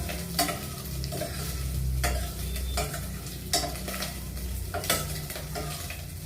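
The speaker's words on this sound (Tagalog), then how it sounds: "Pag nilagay na natin ito, igigisa natin sa kasama yung bawang" Garlic and onion sautéing in a pan while mung beans and longganisa are cooked, with steady close sizzling and several sharp scrapes of a spatula stirring against the pan, no voices.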